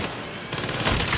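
A minigun in the Saints Row game fires a rapid, dense stream of shots that grows louder and fuller partway through, a continuous roar of gunfire with no talk.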